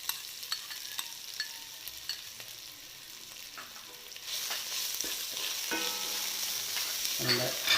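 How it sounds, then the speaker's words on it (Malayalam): Ginger garlic paste sizzles in a pan of frying onions for a quick chicken roast, a steady hiss with scattered stirring scrapes that grows louder and denser in the second half, close and without talk. "ഇതിലേക്ക് നമുക്ക് ഇഞ്ചി വെളുത്തുള്ളി പേസ്റ്റ് ഇട്ട് കൊടുക്കാം"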